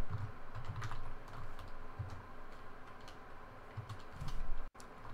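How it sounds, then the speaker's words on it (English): Steady typing on a computer keyboard, soft rapid key clicks in irregular bursts at close range, with a short gap near the end. "we're going to type last name"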